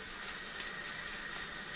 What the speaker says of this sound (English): keep filling the pot with water, pouring the water out until the water runs clear